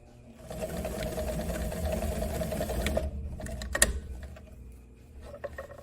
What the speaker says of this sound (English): I'm going to stitch right on that seam, again about an inch.